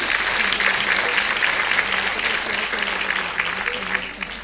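An audience at a women's empowerment programme claps in a sustained, dense round of applause that holds steady before slowly thinning at the end.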